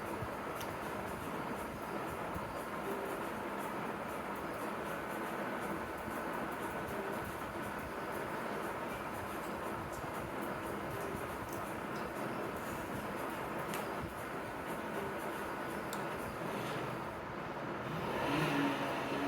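A vehicle out on a drive, heard as a steady close rumble of engine and road noise with constant wind and hum throughout, swelling slightly near the end, and no talk.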